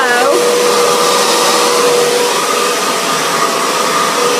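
A hair dryer blows steadily on freshly washed hair, a loud, constant whooshing roar close to the mic throughout.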